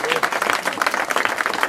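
Steady applause from an audience gathered for the unveiling of the Laga-Lok in Öhringen, a dense continuous patter of many hands clapping at close range with no gaps.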